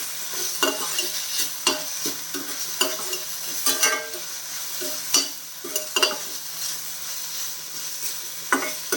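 Mint leaves sautéing in a pan for a chutney, with steady frying sizzle and repeated stirring scrapes and clinks of a spoon against the pan at irregular intervals, no talk.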